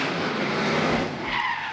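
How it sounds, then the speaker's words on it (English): A Ford Mustang GT500 drift car in a pro drift championship qualifying run at Baypark Stadium screeches in a loud, continuous tire squeal with engine roar, the pitch rising briefly toward the end. "The Mount Shop Rattler Mustang, the GT500 of Shane Allen."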